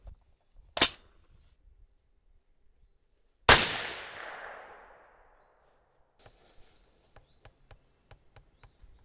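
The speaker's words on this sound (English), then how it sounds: "Let's just take one shot at the center of the target and see where we're hitting." A 6.5 Creedmoor rifle firing a 130gr Berger Hybrid load over Reloder 15.5 gives a loud, sharp report with a long, fading echo, preceded by a smaller crack and followed by faint scattered clicks.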